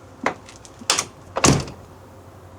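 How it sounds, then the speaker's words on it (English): A pickup truck door being closed several times, three separate thuds spaced about half a second apart, each a hollow, close-up slam followed by quiet. "when I close the door"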